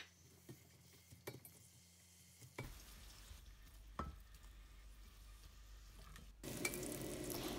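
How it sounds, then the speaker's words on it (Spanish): Onion and garlic sautéing in hot oil in a pot, a soft steady sizzle with occasional stirring clatter, growing louder and busier toward the end, with no voices. "añadimos la cebolla y el ajo y rehogamos 5 minutitos"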